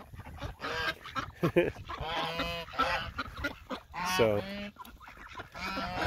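Guard geese kept on a small farm with ducks, honking loudly and repeatedly in a close flock, their harsh calls overlapping in bursts across the whole stretch, with a brief spoken word.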